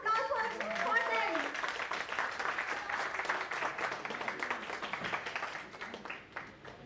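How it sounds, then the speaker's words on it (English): An audience at a corporate innovation and analytics event breaks into a big round of applause, loud dense clapping that starts over a voice and fades out gradually toward the end. "I want to hear the huge round of applause for them."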